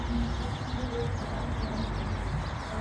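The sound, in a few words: hundreds of birds calling in trees at dusk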